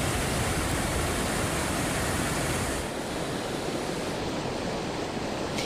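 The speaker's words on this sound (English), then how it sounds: "You can see the water and the mud really bubbling up, and it was really rushing about an hour ago." Floodwater and mud rush along near a bridge by Malibu during an LA storm, a loud, dense, unbroken roar of churning water that eases slightly midway and continues without voices.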